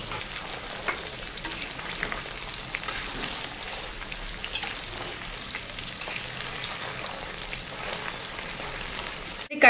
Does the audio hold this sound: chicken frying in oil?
yes